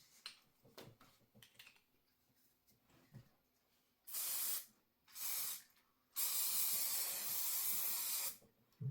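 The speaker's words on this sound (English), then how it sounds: "I'll try a little bit of spray painting" Three bursts of spray paint can hissing close by, two short and one long, after a stretch of quiet handling and light clicks.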